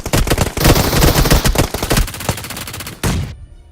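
Rapid automatic gunfire in the video game PUBG, a loud burst of dense close-range shots that thins into scattered rounds before one final crack and sudden silence.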